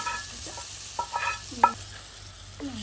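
Cooked food mixed with salt, turmeric and chili powder is stirred in a pan, a soft sizzle beneath a handful of distinct spoon scrapes and clinks spaced irregularly, close up, with no one speaking.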